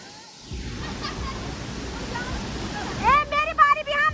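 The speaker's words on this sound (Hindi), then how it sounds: "हम यहाँ पे पहुँच गए नीचे वाला वाटरफॉल में।" A waterfall in heavy rain near Mata Anusuiya and Amrit Kund gives a constant broad roar that is steady and moderately loud. Voices of several people start talking close by near the end.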